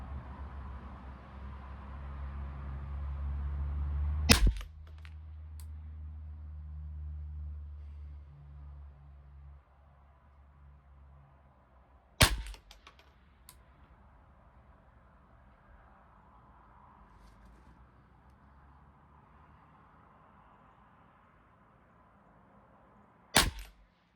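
Three sharp, isolated shots from a .22 rifle firing CCI Standard Velocity ammunition, spaced several seconds apart, each a crisp crack with a short tail over quiet background.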